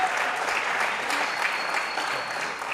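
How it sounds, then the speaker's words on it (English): An audience applauds a speaker at an evening talk event, producing a dense, steady wash of clapping from a crowd that carries evenly through the moment. "So let's all please give Mr. Abdu Murray another warm welcome and applause."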